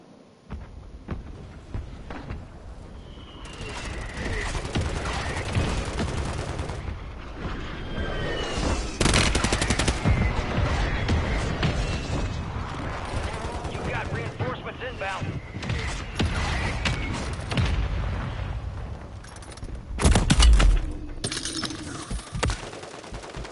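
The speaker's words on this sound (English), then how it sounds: "Hostile mortar strike in the area." Mortar strike explosions and gunfire in Warzone Rebirth, with dense rattling bursts and booming impacts filling the scene, a heavy blast near the end, under a steady loud battle din.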